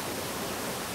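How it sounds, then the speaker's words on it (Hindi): The flowing water stream above Bamni waterfall near Ayodhya hill in Purulia makes a steady, dense rushing hiss that fills the whole moment with no break. "पानी की कलकल बहती धारा की,"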